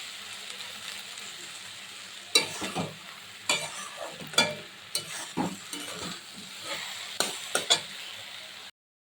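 Jute leaves stir-frying in a pan, with bursts of spatula scraping and tossing in an irregular rhythm over a low continuous sizzle, close by, stopping abruptly at the end.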